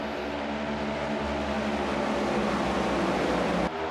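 A NASCAR stock car engine roars loud and steady, a sustained droning whine that holds for a few seconds before cutting off abruptly.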